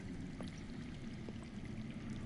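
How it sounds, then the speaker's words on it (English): Underground running water in a video game, a steady low rushing and pouring wash with faint trickles, continuous and muffled as if below the ground, with no talk over it. "I hear water. From underground."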